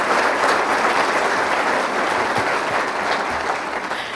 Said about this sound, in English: A big round of applause, please, for Scott Jennings